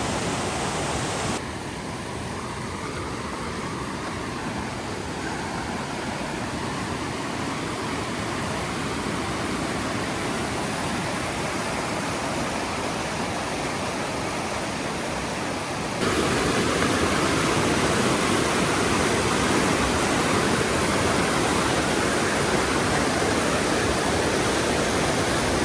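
A grey glacier-melt river flows steadily close by, a dense unbroken rush of water that grows noticeably louder partway through, as if approaching or crossing over it on a bridge.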